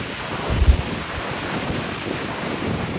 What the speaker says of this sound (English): It's so windy. I've never seen waves like this before.